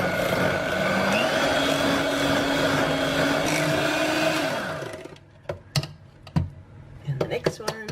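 Eggs being whisked into creamy cheesecake batter for a Basque burnt cheesecake make a steady, loud whirring churn for about five seconds. It stops abruptly, followed by scattered clinks and taps of the bowl.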